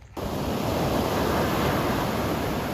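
Steady ocean surf washing onto a beach, checked at the water's edge in the morning, a continuous broadband roar that starts abruptly and holds loud throughout with some wind noise, no voices.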